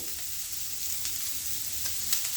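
Cashews, ginger, garlic and coriander stems fry in a pan with a soft, continuous sizzle and a few faint stirring clicks, no voices.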